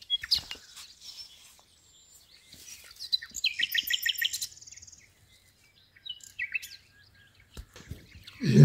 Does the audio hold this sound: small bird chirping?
yes